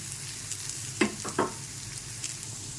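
Grated beetroot added to browned onions frying in a pan, a steady close sizzle with a few quick stirring scrapes near the middle, no voices.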